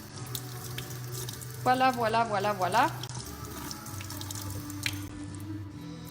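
Tap water runs into a sink as paint brushes are rinsed until the water turns clear, a steady splashing flow with a brief louder gush, while someone speaks briefly.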